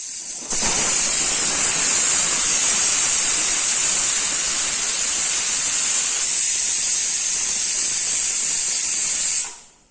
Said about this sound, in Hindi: दूसरी सीटी आ गई है कुकर में, तो एक सीटी और आएगी